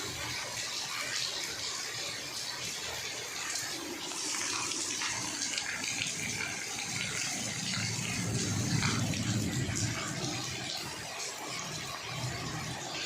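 Heavy rain pours over farm fields in Atla Kalan while runoff gushes and flows, a dense continuous wash of water that swells louder midway.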